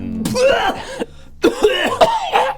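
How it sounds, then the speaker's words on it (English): A voice acting out a character's coughing while gasping for air during a tabletop dungeon-crawl game: harsh, close, loud coughs in two bouts with a short breathy pause between, strained and raspy. "Coughing."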